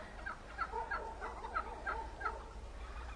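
A flock of domestic turkeys gobbling in quick repeated bursts, moderately close, over a low steady background rumble, in a village yard in Ukraine.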